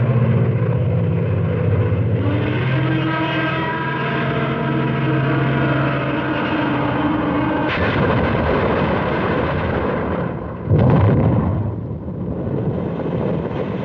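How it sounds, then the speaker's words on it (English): World War II Allied propeller aircraft drone steadily overhead during the push north from Nijmegen, with anti-aircraft fire. Sharper noisy bursts break in partway through and again near the end. "Heavy concentration of anti-aircraft fire brings further losses in Allied planes"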